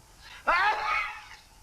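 A single sharp sneeze from a person in a kitchen, sudden and fairly close, bursting out after a quiet moment and trailing off over about a second.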